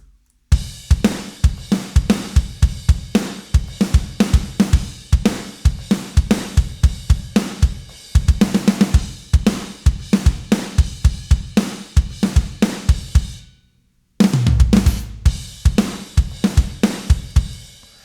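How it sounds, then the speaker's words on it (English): Superior Drummer 3 virtual drums with a modern rock preset play a punchy, fast groove of tight kicks, snares and cymbals, loud and dry, with a brief full stop before the beat resumes. "So I'll just play it and you can have a listen to what this sounds like."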